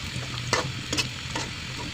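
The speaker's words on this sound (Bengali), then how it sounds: "পেঁয়াজটা ভাজা হয়ে গেছে।" Onions frying in hot oil with garlic, bay leaf, cardamom and whole spices, stirred in a pan at close range: a steady sizzle broken by a few sharp scraping stirs, with no talking.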